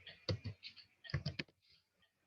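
Keys clatter on a computer keyboard as someone types a search into virtual diode lab software, two quick bursts of keystrokes separated by a pause, close and fairly quiet.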